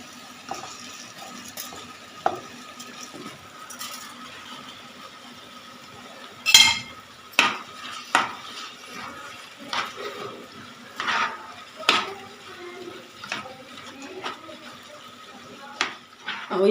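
Rice is stirred into tomato sauce for Egyptian mahshi stuffing, heard as soft scraping and occasional clinks of a utensil against a pot, irregular and fairly close, with a voice talking over parts of it.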